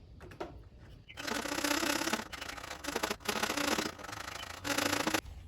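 A hand file rasps against a small wooden model ship piece in quick bursts of close, dry scraping strokes separated by brief pauses.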